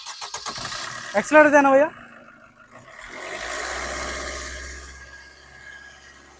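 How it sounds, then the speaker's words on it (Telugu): A 2017 Suzuki Brezza ZDi diesel starts on a single turn of the key and settles into a steady low idle, right after someone speaks nearby. "సింగిల్ సెల్ఫ్ బండి స్టార్ట్ అవుతుంది సార్, ఎలాంటి స్టార్టింగ్ ట్రబుల్ అయితే లేదు బండికి"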